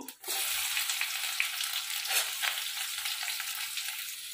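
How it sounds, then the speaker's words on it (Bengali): Chopped onions fry in a pan with ginger-garlic paste and turmeric for a masala dal. After a brief knock, a close, steady sizzle hisses on with faint stirring. "ভালো করে মশলাটাকে কষে নেব।"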